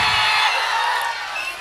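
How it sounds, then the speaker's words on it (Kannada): An audience at a live music show cheers and whoops loudly in a dense, continuous roar of crowd noise that fades slightly toward the end. "ಬಲ್ಲ ಜೋರ ಚಪ್ಪಾಳೆ"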